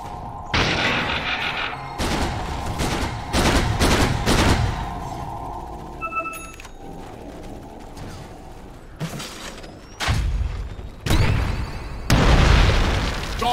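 Heavy attack on Dire's middle tower in Dota 2, a loud run of booming impacts, metallic clanks and ratcheting mechanical hits with brief quieter gaps between bursts, no talking.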